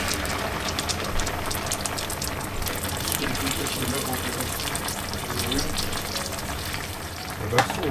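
Meatballs simmering in tomato sauce in a pan give a steady, close sizzle and bubbling throughout, with a brief louder clatter near the end.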